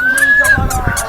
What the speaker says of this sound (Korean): 갈매기도 울고.